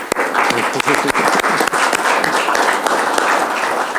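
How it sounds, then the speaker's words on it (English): A round of applause at a transit agency's open board meeting, a dense, even wash of many hands clapping steadily from the room for several seconds, with faint voices mixed underneath. "we are allowed to do a round of applause"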